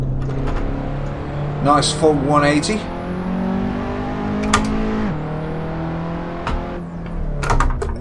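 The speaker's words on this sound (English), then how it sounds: "Engine sounds amazing on this." Racing car engine in Assetto Corsa revving hard through gear changes, pitch climbing and dropping with each shift, while someone talks over the engine noise.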